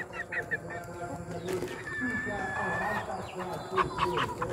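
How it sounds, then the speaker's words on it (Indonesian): A walik and kampung crossbreed chicken calls in short, uneven bursts close by, over a steady outdoor background. "Nah, ini dia si ayam saya yang lucu."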